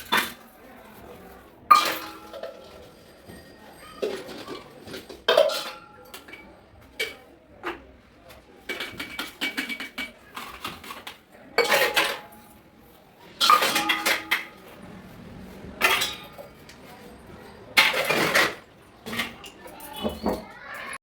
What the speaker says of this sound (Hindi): मैंने अपने पूरे बर्तन कर दिए हैं साफ़, बिल्कुल बिल्कुल साफ़ कर दिए गर्म पानी से